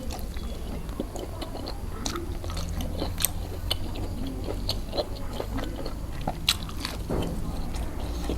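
Tough, chewy cow hide salad with fresh chillies is bitten and chewed up close: irregular wet crunches and squishy bites repeat every second or so over a steady low background, with no talking.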